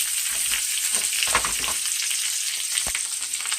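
Veal, squash and onions sizzle steadily in a hot pan, a dense continuous fry with occasional louder pops and crackles, close and fairly loud with no talking.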